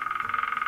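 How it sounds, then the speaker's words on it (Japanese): A woodpecker sound played from a smart speaker: a rapid, even run of sharp taps, roughly thirty per second, steady and fairly close for the whole moment. "キツツキ。"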